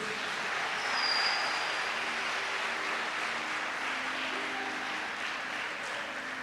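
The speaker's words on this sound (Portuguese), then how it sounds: "Você pode dar um aplauso bem forte a Jesus?" Church congregation applauding for Jesus during a sermon: steady, dense clapping throughout, fairly distant and reverberant, filling the hall without a break.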